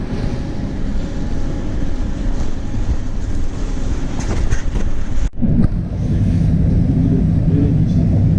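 Interior rumble of a passenger train riding toward Vladivostok from the airport, a steady low rolling drone with a brief dip and clatter midway, close and continuous.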